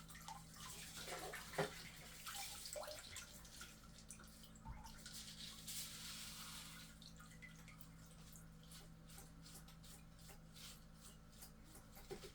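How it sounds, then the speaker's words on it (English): Aquarium decorations being rinsed by hand in old tank water during a routine water change, giving soft continuous splashing and dripping with light rubbing, low and steady throughout with no voices. "I bring them down to the old water and give them a good little rinse"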